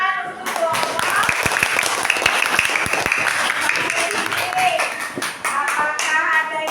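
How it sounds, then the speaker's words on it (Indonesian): Students in a classroom clap for a group, a brisk round of close, uneven hand claps that carries on for several seconds, with some voices mixed in. "Tepuk tangan untuk kelompok."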